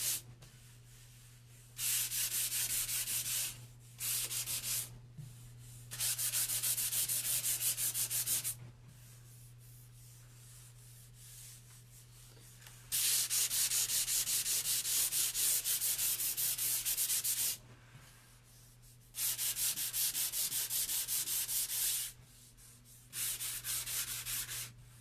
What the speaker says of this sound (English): So I'm going to sand it down a little bit more.